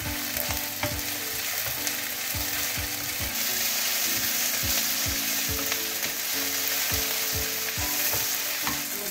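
Bay leaves with red chilies and bird's eye chilies stir-fry in a hot pan, a loud steady sizzle punctuated by quick, rhythmic scrapes and clacks of a stirring utensil, with no one speaking.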